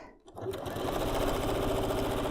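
A sewing machine stitches a quilt block along its center seam, starting after a brief pause and then running in a steady, close, rapid mechanical whir to the end.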